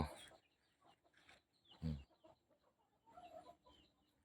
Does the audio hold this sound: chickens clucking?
yes